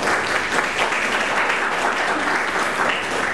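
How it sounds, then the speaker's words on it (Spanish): An audience at an evening event applauds a guest speaker with steady, dense clapping that fills the room at an even level for a few seconds, with no one talking over it. "Un aplauso para ella, por favor."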